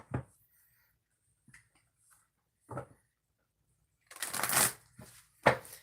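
Tarot cards are shuffled in a few short riffles and rustles, quiet and close, with near silence between the bursts and a louder flurry toward the end.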